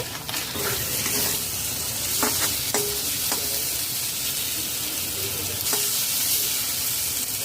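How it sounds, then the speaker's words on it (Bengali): Egg curry with beaten curd sizzles in a pan on a low flame while being stirred. A utensil scrapes and taps the pan several times over a steady background crackle. "লো ফ্লেমে নাড়াচাড়া করে নিতে হবে"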